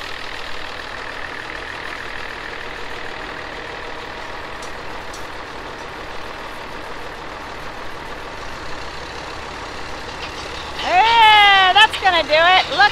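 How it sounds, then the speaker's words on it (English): A forklift engine rumbles steadily while pushing a tiny house across loose gravel, with a low continuous drone for most of the stretch, then a louder rising whine and surging revs near the end. "Forklifts do not like loose gravel."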